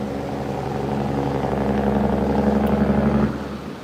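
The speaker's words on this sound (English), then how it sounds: "That guy's hitting that jake brake in the residential area." A heavy truck engine's jake brake rumbles with a rapid, stuttering low roar for a few seconds in a residential area, then cuts off abruptly, heard from nearby outdoors.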